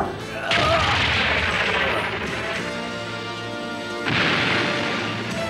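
A cannon fires at villagers in a Legend of Zorro cartoon episode, giving two heavy booming blasts with crashing, rumbling tails, the second about four seconds after the first.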